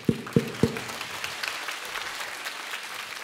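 Concert crowd applause at a 15th anniversary tour stop in Hamamatsu: a few sharp, close claps open, then a steady, moderately loud wash of many hands clapping continues throughout.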